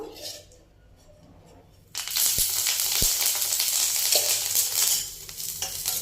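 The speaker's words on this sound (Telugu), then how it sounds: "ఇలా పచ్చిమిర్చి కాస్త మెత్తబడే వరకు సన్నటి తెగ మీద బాగా వేయించేసుకోవాలన్నమాట" Green chillies hit hot oil in a pan after a quiet lead-in, breaking into a loud, steady sizzle and crackle with a few sharp taps of a utensil against the pan.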